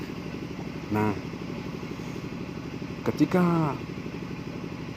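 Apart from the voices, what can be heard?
Honda Supra 125 motorcycle engine idling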